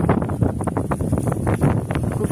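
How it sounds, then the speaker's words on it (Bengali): Strong wind blows outdoors on a cold winter morning of about 8 degrees in the USA. Gusts buffet the microphone with a constant, rough, close-up roar, and no one speaks. "অনেক বাতাস।"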